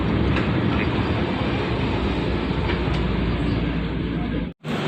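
A passenger train rumbles along steadily from the inside, a dense, constant roar of wheels and carriage noise that fills the whole stretch before cutting out sharply near the end.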